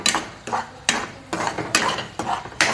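A spoon scraping and stirring thick tomato paste in a metal pot for a home-cooked shev bhaji, in regular close strokes about every half second, each with a bright clink against the pot.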